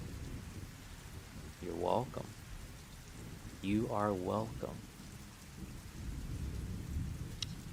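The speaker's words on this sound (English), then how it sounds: "You sleep to rain sounds?" Steady rain with rumbling thunder forms a continuous ambient bed throughout, while a voice speaks briefly twice over it.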